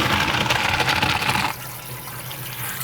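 Cooked al dente pasta is drained, with a loud close gush of water pouring out for about a second and a half before fading to a quieter trickle.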